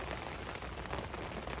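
Rain pouring steadily at a fishing lake on a farm, a dense, even hiss of drops close by with no voices.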